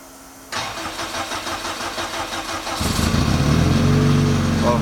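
Lotus car engine with a twin plate clutch on a build in progress cranks and catches, then runs with a steady, fairly loud near hum that grows fuller and deeper over the last couple of seconds, with no one talking.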